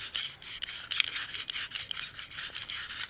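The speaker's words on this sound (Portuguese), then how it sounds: "Você pode pegar uma lixa fininha e lixar a parte quadrada do eixo" Fine sandpaper rubs the square part of a distributor shaft in quick, steady back-and-forth strokes, a dry, hissing rasp that is close and fairly faint with no talk.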